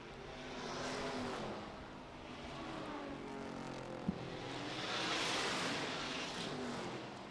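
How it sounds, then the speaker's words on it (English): A vintage race car slows at Laguna Seca Raceway during a race, its engine note carried faintly from a distance and swelling and fading as it passes, with no talking. "Scrubbing off a little bit of speed there is Van Meel."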